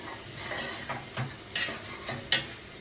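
Onion for soybean keema fries in a pan with a low constant sizzle, while a few short scraping clicks of stirring come through close by.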